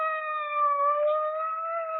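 A police car siren wails in a steady, sustained tone with a slow pitch sway, heard at moderate distance and alone, with no voices.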